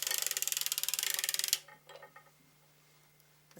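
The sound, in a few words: sock knitting machine cranked to knit across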